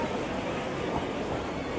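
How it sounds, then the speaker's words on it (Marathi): A local train pulls into a Mumbai station, its steady broadband rumble and rail roar filling the platform at moderate level, continuous with no clear breaks. "फायनली आपल्या आता ट्रेन आले बघू शकता."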